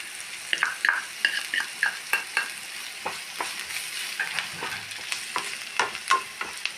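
Chili powder and salt fry in a pan for okra thoran with a soft, constant sizzle, punctuated by frequent crisp clicks and scrapes of a spoon stirring against the pan.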